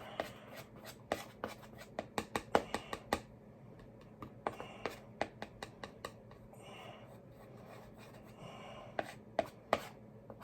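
Black and red oil paint being stirred together on a palette with a knife, giving a series of close, crisp tapping and scraping strokes in irregular bursts, faint overall.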